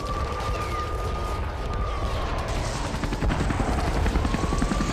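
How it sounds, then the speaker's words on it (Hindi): Russian attack helicopters in combat near Avdiivka, a continuous loud rotor and engine drone with a steady whine, with no voices. "रूसी अटैक हेलीकॉप्टर भी एक्शन में यहां पर नजर आए हैं।"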